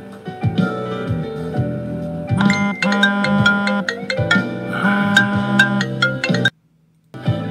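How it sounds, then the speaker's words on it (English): A mobile phone ringtone plays a loud, repeating electronic melody of bright chiming tones for several seconds, then cuts off briefly near the end. "His phone was ringing."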